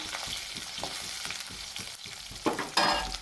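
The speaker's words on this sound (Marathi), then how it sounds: "बघा छान पैकी आता मिरच्या तळल्या" Green chilies fry in a pan with a steady sizzle and rhythmic stirring taps, growing louder with a couple of stronger scrapes toward the end.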